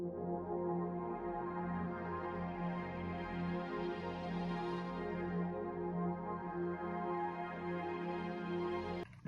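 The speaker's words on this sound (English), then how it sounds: "For the first sound I had this texture from Omnisphere." An Omnisphere synth texture for a pad layer in a piano beat holds a sustained, droning chord, soft and even, swelling slightly in brightness midway before cutting off.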